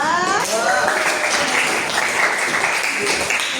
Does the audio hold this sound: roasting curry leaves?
no